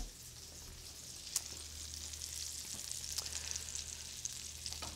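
A steak sizzles in a pan while being basted with rosemary and garlic, giving a constant bright crackle with scattered pops and spits, fairly close and without speech.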